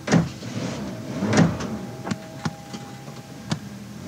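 Ambulance doors shut at a comedic rescue scene, giving a few short thuds and knocks, the first two heavier, spaced over a few seconds against a faint hum, with no talking.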